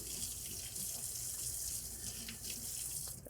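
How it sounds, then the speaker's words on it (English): Tap water runs steadily into a sink while hands are rinsed under the stream, a continuous close hiss and splash with no talking, in a kitchen where a steak dish is being prepared. "I have to wash my hand a little bit"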